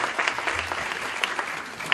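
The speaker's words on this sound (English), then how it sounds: "Big round of applause here." Audience at a Crohn's and colitis education symposium in Crown Heights applauding, a dense patter of clapping from a modest crowd through the whole moment.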